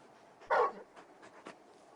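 Torgal, the large dog in the video game Final Fantasy XVI, gives one short whimpering yelp followed by a few faint, soft whines, close and quiet with no talking.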